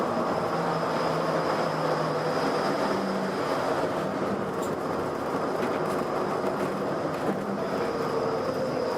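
A Disneyland Resort train pulling into Downtown Disney Station gives a steady, loud rumble with a faint high whine, continuous and unbroken throughout, with no talking.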